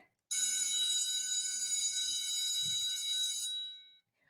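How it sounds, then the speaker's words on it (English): A school bell rings in one steady, bright electric peal for about three seconds, then stops and a faint tone trails off. "we ringing the other bell"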